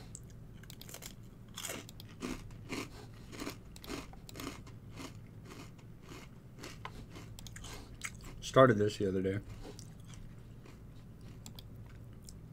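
Close crunching and chewing of Crunch and Munch snack, a steady run of crisp bites with one louder crackling burst near the end, while a person talks over it.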